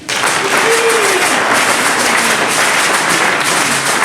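Church congregation at a village construction donation ceremony in Yadio, Agboville, breaks into loud, sustained clapping, a thick continuous patter throughout with a brief voice-like tone rising over it near the start.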